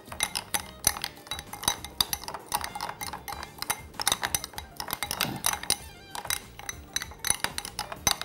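Spices mixed with about two tablespoons of oil in a bowl, with steady metallic clinks and scrapes of a spoon against the bowl in an irregular rapid rhythm, close and continuous.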